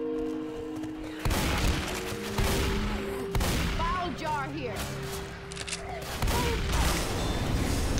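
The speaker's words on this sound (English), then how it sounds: "Oh, something blew up over there." In Left 4 Dead 2, a gas can and a propane tank blow up in several sharp booming bursts amid gunfire, while players talk throughout.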